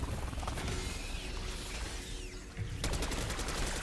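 The Beamsmasher wonder weapon in Black Ops 6 zombies fires its alternate mode as a loud, sustained crackling barrage that runs throughout, then shifts into rapid pulsing bursts near the end, with no talking.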